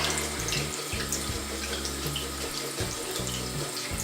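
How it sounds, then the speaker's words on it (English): Steady running tap water splashing into a sink while rinsing a makeup brush, continuous and fairly close, with small shifts in the flow and no voices. "So it just needs to get more rinsed out."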